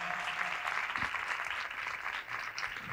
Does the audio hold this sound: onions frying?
no